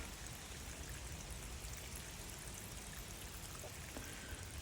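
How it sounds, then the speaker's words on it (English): A thin stream of water runs down a small waterfall about four or five feet tall on a homestead, a soft steady trickle and patter with no one speaking. "you can still see there's water running."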